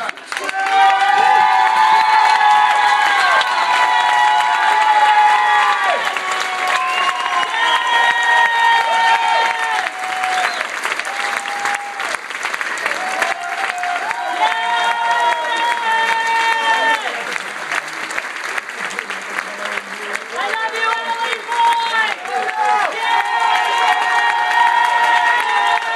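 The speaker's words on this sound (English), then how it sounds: "Please give a warm round of applause." An audience at an arts scholarship award ceremony gives a long, loud ovation for a theater-major winner, with steady clapping and bursts of whooping and cheering voices that rise and fall over about half a minute.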